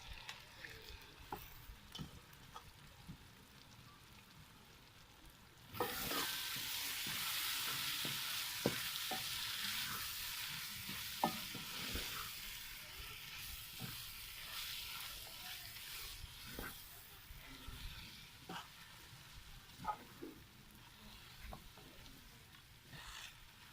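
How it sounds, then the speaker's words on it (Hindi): Shredded chicken mince frying and being stirred into pizza masala, a soft sizzle that swells suddenly and continues with scattered scraping clicks of stirring, fairly quiet and without talk. "अभी मसाला भी हमारा तैयार हो गया और कीमा इसमें डाल देंगे।"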